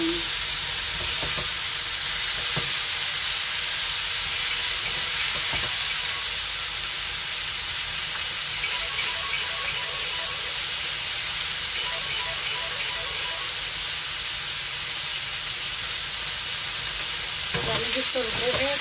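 Pork belly fries in a pan, a loud continuous sizzle and spit of hot fat that holds steady throughout with occasional crackles.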